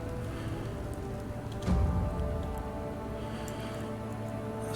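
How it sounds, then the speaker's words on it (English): Steady rain pattering on surfaces in Skyrim, a continuous wash of drops with a brief louder gust partway through, no talk. "see if the rain passes"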